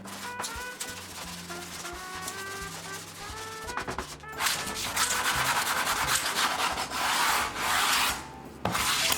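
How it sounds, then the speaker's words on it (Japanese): Steady scratchy rubbing of 120-grit sandpaper rounding the edges of wood, continuous strokes growing louder and denser partway through, close up with no talking. "こういう120番ぐらいの紙やすりでそっと角をね取ってあげると"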